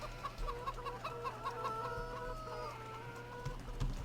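Chickens on a Pacific Northwest farm in Farming Simulator 17 cluck in a quick run of repeated notes, then trail into drawn-out calls over a low steady hum, fairly soft and without talk.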